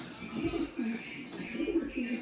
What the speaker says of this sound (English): Nice pigeons.